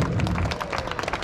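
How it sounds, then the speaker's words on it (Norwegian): Brief round of applause for a young football player showing tricks at a youth football cup in Randaberg, a dense burst of many hands clapping, close and fairly loud. "Klappe her for Jakob"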